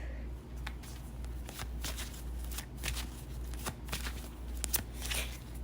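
Tarot cards are drawn and shuffled from a deck, with a run of soft, close papery flicks and slides over a steady low background hum.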